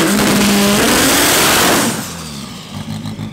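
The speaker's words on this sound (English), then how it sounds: "Up next is Quentin Boylan and his all-wheel drive." An all-wheel drive, K-powered EG race car launches hard at a drag strip. Its engine roars loud and close, rising briefly before fading quickly into the distance, with no voices.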